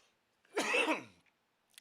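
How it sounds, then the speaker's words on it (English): A single short cough burst, close and moderately loud, in an otherwise quiet space with a faint click at the end. "you don't get to see me coughing."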